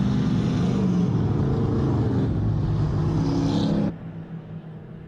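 WISSOTA Midwest Modified race cars circle a speedway track, producing a steady, loud, full engine roar that holds for almost four seconds before dropping abruptly to a fainter rumble.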